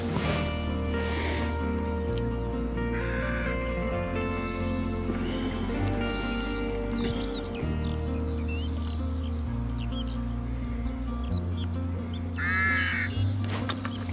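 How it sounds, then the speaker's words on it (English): Rooks caw from a rookery overhead, a few harsh calls breaking out now and then over steady background hum and faint birdsong outdoors by a fishing spot. "there's the old rooks up there"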